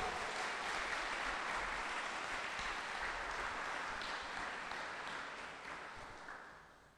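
A church congregation applauds in a large hall, a dense continuous wash of clapping that holds steady and then gradually fades toward the end, with no voices standing out.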